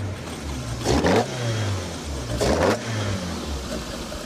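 A Toyota engine with a deep, thick tone revs twice in sharp bursts over a steady low idle, close and fairly loud, with no talking.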